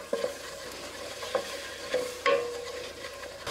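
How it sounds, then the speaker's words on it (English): A butter and flour roux is stirred in a pan, a soft sizzle under gentle, intermittent scraping strokes of the spoon, close up and fairly quiet, with no voices. "We just want to cook the flour flavor out of this roux."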